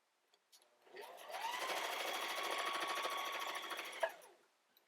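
A sewing machine base-stitches fabric in one steady, fairly loud whirring run of about three seconds, starting and stopping with soft mechanical clunks.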